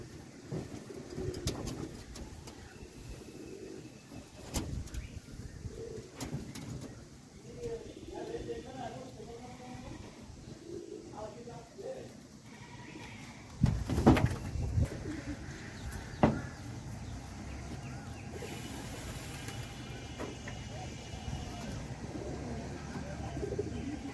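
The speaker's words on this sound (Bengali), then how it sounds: "এখানে কয়েকটা কবুতর আছে" Several pigeons coo softly on and off behind a person's talking, with a few sharp knocks partway through.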